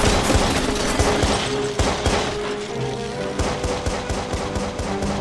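Sniper fire erupts in the video game Watch Dogs: loud, rapid volleys of sharp gunshots crack one after another for several seconds, with a few heavier booms mixed in.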